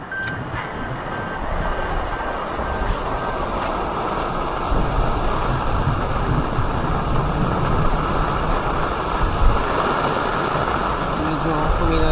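Strong wind at a campsite during a typhoon roars and buffets the microphone continuously, a dense rushing noise that swells and steadies throughout.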